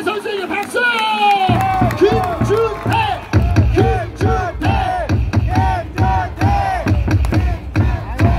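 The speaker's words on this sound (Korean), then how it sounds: "우리 고생한 김준태 선수에게 박수!" Baseball stadium crowd at a KT Wiz game, a loud massed cheer with rhythmic chanting and clapping that repeats in steady beats, voices shouting together over a continuous roar.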